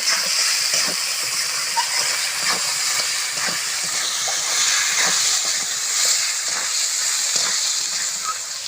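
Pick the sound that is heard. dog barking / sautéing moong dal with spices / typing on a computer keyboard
sautéing moong dal with spices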